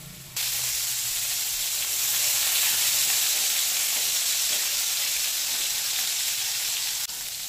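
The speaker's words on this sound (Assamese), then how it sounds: "बेंगेना खनि फ्राई কৰি লও" Eggplant pieces fry in hot oil in a wok, giving a loud, steady sizzle and hiss that begins abruptly and holds evenly for several seconds with no voices.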